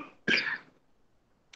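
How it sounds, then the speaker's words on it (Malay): A single sharp cough near the microphone, one loud burst with a short trailing tail, followed by quiet and the start of another faint sound at the end. "sorry, batuk pula."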